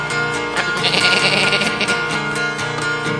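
A singer mimics a goat's bleat in a Korean comic children's song about farm animals, the wavering cry sustained loudly over full band accompaniment.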